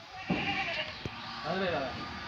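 Kathiawadi goats bleat in a few wavering calls at close range, with people talking loudly in Marathi over and between the bleats at a livestock sale.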